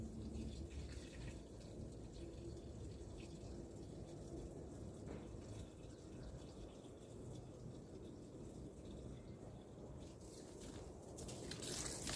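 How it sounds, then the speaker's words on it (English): Water poured onto freshly planted susumba and other plants on rocky ground, a soft, continuous splashing gush that runs steadily throughout, faint and fairly even, growing a little stronger near the end. "I'm going to water in those plants now"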